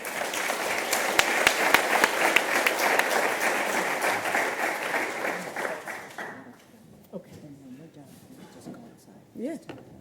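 Audience applause welcoming Professor Nancy Grimm as closing keynote speaker, steady and dense for about six seconds, then fading out to quiet room noise with a few brief voices.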